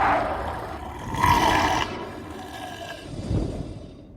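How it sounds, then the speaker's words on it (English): An animal roar used as an audiobook sound effect, a long, rough, loud cry that swells for a few seconds, then trails off into a lower rumble, heard on its own. "an animal's roar was heard from high above"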